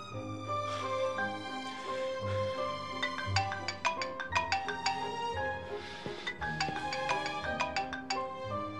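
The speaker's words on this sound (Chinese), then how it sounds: "帮我接电话" A mobile phone plays a melodic electronic ringtone, a bright run of repeating chimed notes that keeps going for several seconds in a quiet room.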